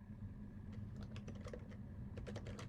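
Quick bursts of typing on a computer keyboard, close and clear, with clustered key clicks at irregular intervals over a low background hum and no talking.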